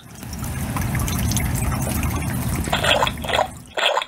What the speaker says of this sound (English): splosh of raindrops on the window sings Peppa and George to sleep